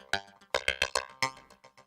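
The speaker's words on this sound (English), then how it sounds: "What you're listening to is a really, really nice Brahms symphony." A Brahms symphony heard through a tiny PC speaker, thin and tinny, with a few loud bursting orchestral chords in an uneven rhythm over about two seconds.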